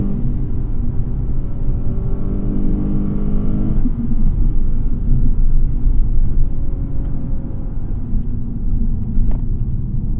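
A deep V8 engine in a 2016 Lexus GS F rumbles steadily from inside the moving car, with a rise in pitch as it revs, then settling into a low cruising drone.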